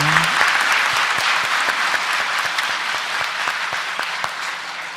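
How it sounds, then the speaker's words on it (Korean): A church congregation at Christmas Mass claps together in a loud, sustained round of applause that slowly tapers off over about five seconds. "박수 한번 치겠습니다"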